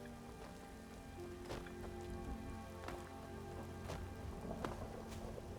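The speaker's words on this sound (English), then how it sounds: "A rainy day." Rain falling in the video game Skyrim, a steady patter of drops on surfaces with occasional louder taps, soft and continuous.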